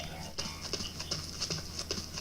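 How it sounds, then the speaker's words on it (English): Footsteps of a player character walking behind in the video game Blacklight: Retribution, a quick series of regular soft thuds with a slight doubled rhythm, fairly faint over a hissy background. "Double footsteps."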